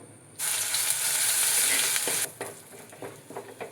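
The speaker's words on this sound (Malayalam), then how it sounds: "ഇനി നമുക്ക് ഇഞ്ചി വെളുത്തുള്ളി പേസ്റ്റ് ചേർക്കാം" Ginger garlic paste hits hot oil with fried fenugreek seeds in a pan, giving a sudden loud, steady sizzle that holds for about two seconds, then fades into softer crackling and stirring.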